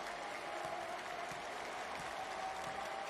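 Sustained applause from a basketball arena crowd at a Shiga Lakes versus Hiroshima Dragonflies B.League game, an even wash of clapping with a faint steady tone running underneath.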